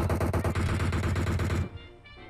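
Rapid automatic gunfire rings out in the mobile shooter game PUBG Mobile as a loud, fast, regular burst of shots, then cuts off sharply and leaves a quieter tail.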